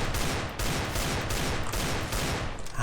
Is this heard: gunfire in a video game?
yes